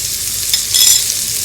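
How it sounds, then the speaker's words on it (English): Spices, fragrant leaves and ginger paste sizzle loudly in a hot pan as they are stirred, a bright crackling hiss with a brief scraping stir. "I'm going to add the fragrant leaves and the spices, cardamom, cloves, and daun pandan."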